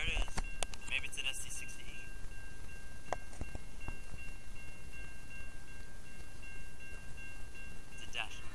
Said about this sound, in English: comes some NS train. In Salisbury, here we go. There it is.